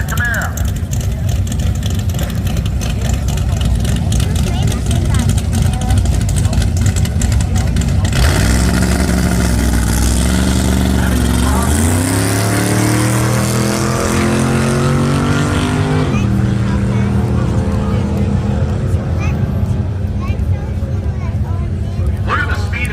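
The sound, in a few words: Camaro drag racing at Byron Dragway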